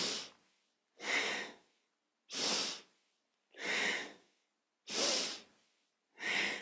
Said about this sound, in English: Moving deep, breathing deep.